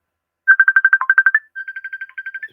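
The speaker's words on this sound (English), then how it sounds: "who's ringing me?" A phone ringtone for an incoming call sounds loud and near, two quick bursts of rapid, evenly pulsed electronic trills, the second a little softer, with no talking over it.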